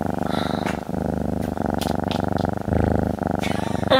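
A cat purring close to the microphone, a loud, steady rhythmic rumbling that continues throughout, briefly interrupted by small rustles and clicks.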